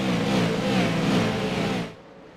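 Late model race cars roar past at Hickory Speedway, a loud dense engine wall with revving pitch that holds for nearly two seconds, then cuts off abruptly into quiet.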